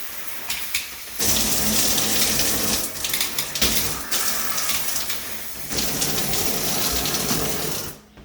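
A shower in a residence runs steadily, a loud hissing spray of water that stops briefly a few times before resuming and shuts off at the end.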